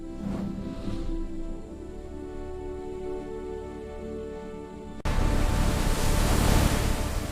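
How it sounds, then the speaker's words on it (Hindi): A jungle river in a cartoon starts flowing again, heard as a sudden rush of water that bursts in about two-thirds of the way through and then stays loud and steady. "ये नदी फिर से बहने लगी।"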